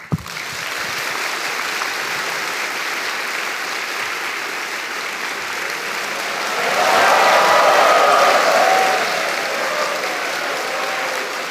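A large audience at a fireside-chat technology event gives sustained applause to welcome two speakers onto the stage. The applause is dense and steady, swells louder midway through, then holds until the end, with faint voices mixed in.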